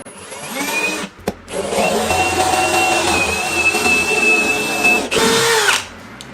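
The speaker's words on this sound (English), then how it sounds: "7/32 drill bit. Find the marking that you made and drill your holes." Drill boring holes with a 7/32 bit into a wall for a TV mount, a close, loud steady whine lasting several seconds after a brief start-and-stop at the beginning.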